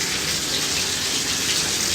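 A toilet flushes with a steady, loud rush of water, close and continuous for the whole moment with no talking.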